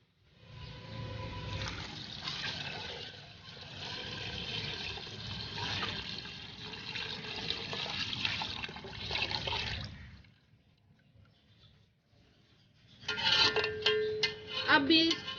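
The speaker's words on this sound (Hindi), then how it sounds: "दूध डाल दीजिए।" Milk pours into a pot of carrots and rice for gajrela, a soft continuous liquid stream for about ten seconds, then a pause before a brighter splashing burst at the end.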